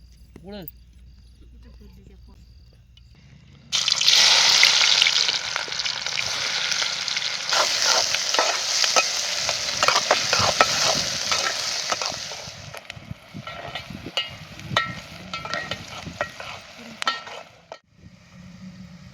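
Chopped onion sizzles loudly in a hot pan while egg curry gets started, with bursts of scraping stirring; a quiet stretch precedes the sudden loud frying, and someone talks over it.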